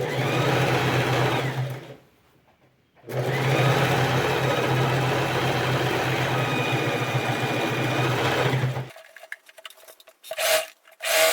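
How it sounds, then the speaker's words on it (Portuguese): A sewing machine runs a long seam across a TNT-based fabric patchwork rug in two close, loud bursts, a short one, then a brief pause, then a sustained steady run, followed by quiet handling clicks. "eu venho com uma costura, ó, de fora a fora"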